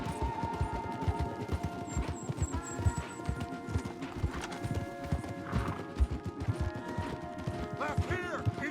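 Horses galloping hard in the video game Red Dead Redemption 2: continuous rapid clip-clop hoofbeats with a horse whinny, mixed with game effects and occasional voices, loud and close throughout.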